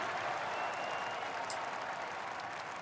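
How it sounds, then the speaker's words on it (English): Virtual gallery crowd in a golf video game cheering and applauding as a ball drops into the hole at The Open Championship, a steady, broad wash of clapping and cheers lasting throughout. "You hear a crowd cheer, it shows you an indication it's in the hole"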